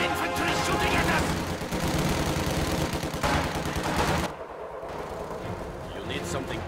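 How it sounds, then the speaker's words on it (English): Infantry gunfire in the World War II strategy game Company of Heroes 2 during a battle on the Moscow lines, dense continuous volleys of rifle and machine-gun fire with heavy booming blasts, loud and sustained. "Infantry shooting at us!"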